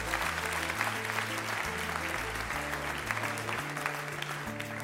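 An audience at a mental-math talk gives a round of applause, steady clapping over a sustained musical tone, with no voices.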